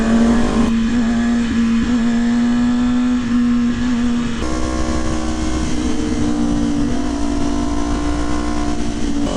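Jaguar F-Pace SVR SUV driving past, a loud continuous engine drone with a steady tone that shifts as it changes gear, heard close alongside wind and road noise.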